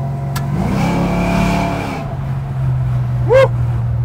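A GMC truck fitted with a swapped-in LS1 5.7-litre V8 revs up hard and close, the engine note climbing and holding before dropping back to a steady rumbling idle, with a brief high chirp near the end.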